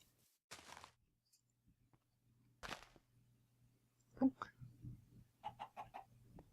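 A Minecraft chicken clucks in a Tekkit Lite modpack world, a few short, faint clucks over quiet game ambience, with separate bursts of other sounds in between.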